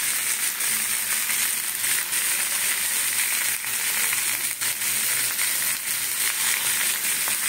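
Boiled potatoes sauté with salt, turmeric and Kashmiri chilli powder under a continuous bright sizzle, with occasional faint scrapes and crackles and no voices.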